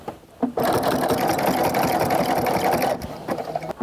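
A sewing machine runs in one steady, close, fast-chattering burst while stitching over the seam of a jelly roll fabric rug, starting and stopping abruptly with small handling clicks around it.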